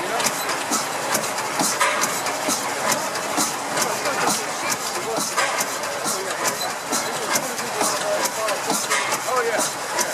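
Vintage stationary engine of about 30 horsepower running at a steam rally, a steady rapid mechanical chugging heard up close under a busy outdoor crowd with people talking nearby.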